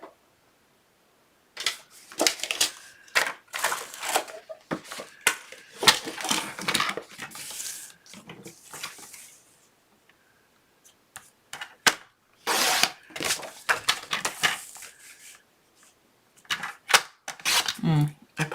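Paper being cut for a Valentine snack cake box, with a run of crisp, close snipping and slicing strokes in quick bursts, a pause partway through, then more cutting.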